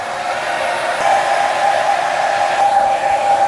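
A hair dryer with a negative ion function runs steadily at close range, a continuous airy blowing whine that holds a constant pitch and rises slightly in strength partway through, with no talking.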